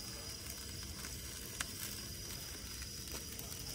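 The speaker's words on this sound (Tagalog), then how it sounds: "Anamoy mo yung niluluto ko dito, yung iniihaw ko dito." Food grilling over an open fire at a solo campsite, giving a steady close crackling sizzle with a few sharp pops and no voices.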